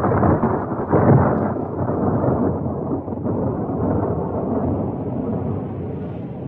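Radio-play effect of a violent storm at sea, with heavy low rumbling thunder over a continuous roar of wind and rain, loudest near the start and then rolling steadily on.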